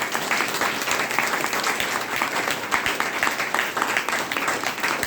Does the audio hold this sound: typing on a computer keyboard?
no